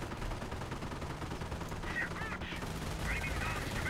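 Machine gun fire in Company of Heroes, steady rattling bursts of automatic gunfire, fairly faint and mixed with battle noise and occasional voices.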